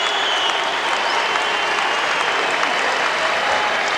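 Steady, dense applause fills Chicago Stadium as a basketball crowd gives Boston Celtics player Robert Parish an ovation during a Celtics–Bulls game in 1994, loud and continuous throughout.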